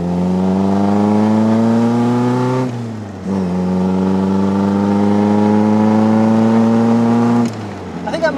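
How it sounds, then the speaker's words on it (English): A Ford CVH four-cylinder engine in a 1984 Morgan 4/4 four-seater revs loudly and steadily, its pitch climbing, drops briefly as it shifts, then rises again before easing off. "I think that might be the best sounding Ford CVH engine I've ever heard"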